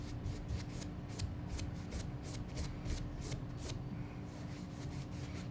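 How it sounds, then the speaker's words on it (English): A paintbrush whisks red paint into yellow with quick rhythmic scratchy strokes, faint and close, repeating at a steady pace over a low background hum. "I'm just going to start now whisking this up into our yellow"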